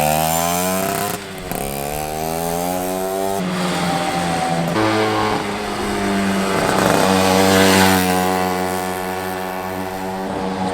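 A 1986 Yamaha YSR 50 miniature motorcycle, a scaled-down Marlboro YZR replica, buzzes loudly as it laps, its small two-stroke engine revving up and down through gear changes, close by and with no talk.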